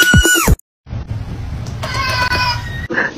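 Loud, shrill screaming from excited voices, cut off abruptly and then followed by a mix of higher, childlike shrieks and yelling after a brief silence. It is close and chaotic.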